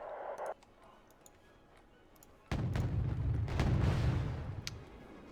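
Rocket artillery salvo in the Wargame: Red Dragon video game, a sudden loud broadband rumble that starts midway and roars on for several seconds with crackling impacts, after a short burst of game voice and near silence.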